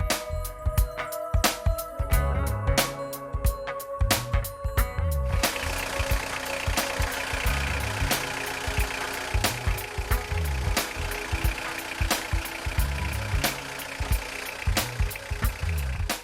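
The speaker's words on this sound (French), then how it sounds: "Il en résulte des claquements de la boîte de vitesse au point mort, des grenaillements ainsi que des bourdonnements de carrosserie." PSA DW12 2.2 HDi diesel engine idling, with gearbox rattle in neutral: a close, steady diesel clatter with sharp repeated knocks and rattles throughout and no voices.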